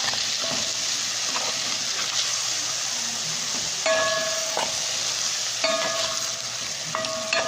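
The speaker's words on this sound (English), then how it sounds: "the minced beef here, the ground beef here, cooking up" Ground beef fries in a pan for a beef casserole, a steady loud sizzle with occasional scraping stirs and metallic utensil clinks against the pan, heard alone without talk.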